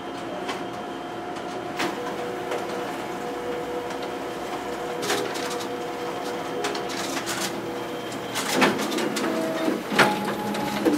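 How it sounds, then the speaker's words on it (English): A Xerox WorkCentre 7545 copier runs its document feeder and double-staples test copies, with a steady mechanical hum and repeated clicks and clacks of paper handling that grow busier toward the end. "there we have our document feeder working properly"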